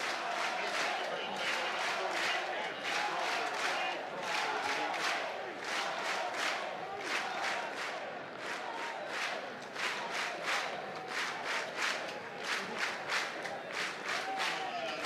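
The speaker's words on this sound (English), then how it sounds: "A little Tyler Fay chant" A college baseball crowd at St. John's vs Alabama chants pitcher Tyler Fay's name in a steady, rhythmic cadence with clapping, distant and loud, repeating over and over with a brief dip midway.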